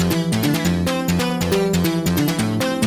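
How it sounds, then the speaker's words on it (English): Main synth lead in an electronic music track with an acid bass, playing a busy, rhythmic melodic line over punchy beats, dense and loud throughout with no voices. "The main synth sounds like this."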